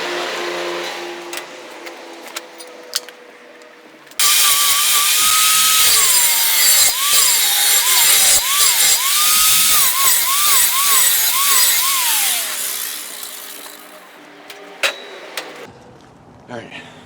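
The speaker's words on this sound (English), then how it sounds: "now I'll take my angle grinder with a flapper wheel and I'll clean up that edge" An angle grinder with a flap wheel cleaning up a metal edge on a travel trailer conversion, a loud sustained grinding whine with rising and dipping pitch as pressure changes, bracketed by quieter handling sounds.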